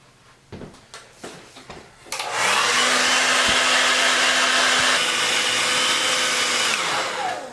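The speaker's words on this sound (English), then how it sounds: "heating up the body again with the blow dryer" A few soft knocks and clicks of handling a plastic action figure, then a blow dryer switches on and roars steadily and close for about five seconds, heating the figure's body.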